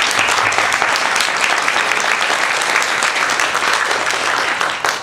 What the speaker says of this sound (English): So if everyone would give her a warm round of applause.